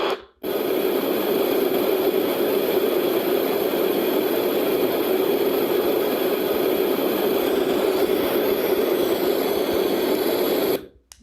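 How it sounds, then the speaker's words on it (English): A Dreamegg D11 portable sound machine plays a deep white noise setting, a steady, dense hiss with a low rumbling body that runs loud and unbroken, cutting in and out cleanly at the ends. "they've chosen a very deep white noise"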